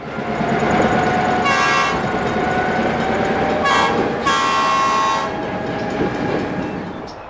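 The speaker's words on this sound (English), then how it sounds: "After a brief stop, the train is once again on its way." A B&O freight train pulls away on the line near a tunnel, its horn sounding in several loud blasts over a steady rumble and rolling wheel noise that continue throughout.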